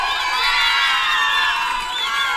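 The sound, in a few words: crowd shouting and cheering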